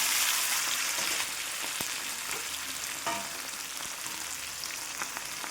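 Peeled potatoes with turmeric sizzle steadily in a hot pan for Gujarati fasting sukhi bhaji, with a few soft stirring clicks over the constant frying hiss.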